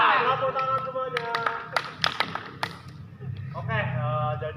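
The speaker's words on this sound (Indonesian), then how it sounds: "Tepuk tangan semuanya" A classroom of children clapping hands together in a scattered burst of sharp claps, with voices talking and singing around them.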